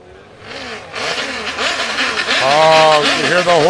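Stand-up jet ski engines revving hard as a field of eighteen riders races in a Pro Ski GP waterjet event, loud rising and falling engine whines layered over crowd noise and an excited commentator's voice.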